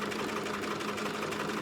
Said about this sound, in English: I'm going through both layers as I'm stitching across here with that big long stitch that I'm going to gather with